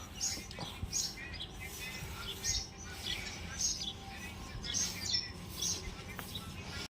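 Birds chirp in repeated short tweets while feeding on wheat grains set out for them, faint and somewhat distant over a low background hum.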